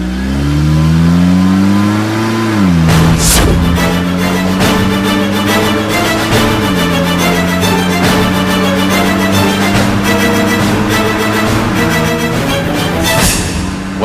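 A car drives past close and loud, its engine note rising through a gear change and then holding steady in a continuous hum for the whole stretch, with no talk over it.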